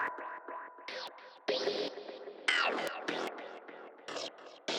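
Synth tone passed through dual bandpass filters, cutoff wobbling under a fast sequencer LFO, giving a wiggly, stepping character; a run of short rhythmic notes with shifting bright sweeps, moderately loud and alone.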